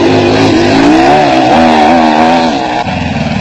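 A Raceco single-seater off-road race car at the 1994 Roof of Africa rally in Lesotho, its engine revving loud and close with a wavering, climbing note that dips and roughens near the end.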